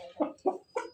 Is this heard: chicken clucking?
yes